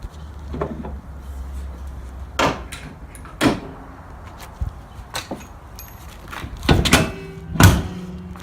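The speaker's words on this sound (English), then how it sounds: "we'll drop the hood down." A car hood on a Nissan 240SX (S14) drift build with an LS1 engine is dropped shut, giving sharp metallic thunks amid several clunks and handling knocks, close and loud against a quiet garage background.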